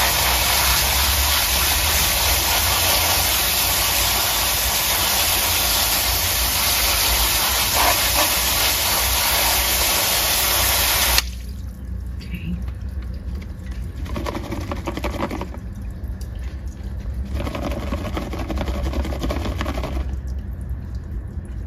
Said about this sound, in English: First of all, I want to wash off all the soil.